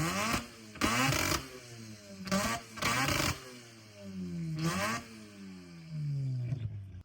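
A Mazda RX-7 rotary engine blipped repeatedly before its exhaust work, each sharp rev rising and falling back to a lumpy idle, loud and close with no talk over it.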